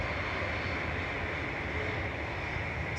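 An Air Maroc airliner departing Manchester Airport for Casablanca produces a steady, even jet engine roar held at constant loudness through a short stretch.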